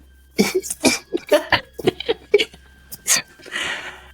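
A tabletop role-playing player imitates Zoolander-style coughing with a rapid string of exaggerated, choppy hacks and sputters, close to the mic, ending in a breathy wheeze.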